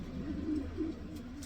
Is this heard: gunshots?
no